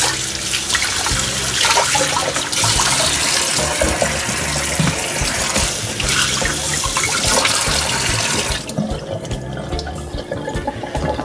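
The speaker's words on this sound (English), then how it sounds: "I'm just gonna rinse it off" Water from a tap runs steadily and loudly while a halved butternut squash is rinsed underneath. The gushing is close and continuous, then changes tone and softens near the end.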